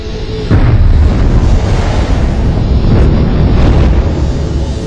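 A deep, roaring supernova explosion effect from a white dwarf blowing apart, starting with a sudden heavy boom and then holding as a loud, sustained rumble for several seconds with no voices.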